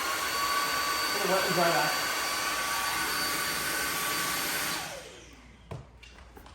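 A Samsung Jet 90 cordless stick vacuum runs at maximum power with a loud, steady high-pitched whine and airflow roar, with a brief voice over it, then powers down and winds away with a click near the end.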